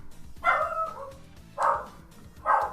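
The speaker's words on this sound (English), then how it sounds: "I missed that because my dog's barking" A single dog barks three times, each bark loud and close and spaced about a second apart, over a quiet indoor background.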